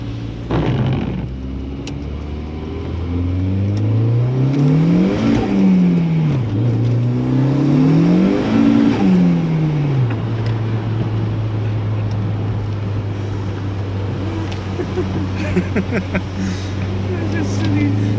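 A car on wet roads with boost activated by gear and launch control, its engine note rising and falling through several gear pulls before holding a steady drone, loud and close from inside the cabin, with a voice talking over it.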